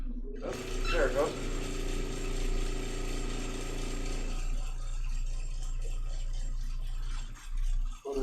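A vacuum pump pulls air out of a chamber with a steady, close mechanical drone and a ratcheting rattle that holds for several seconds, then dips and cuts out near the end.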